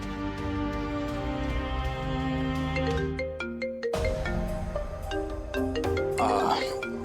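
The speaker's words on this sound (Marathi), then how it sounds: "मला ना आता एक फोन आलाय" A phone ringtone for an incoming call plays loudly and continuously as a tonal electronic melody, with the pattern shifting partway through and continuing to the end.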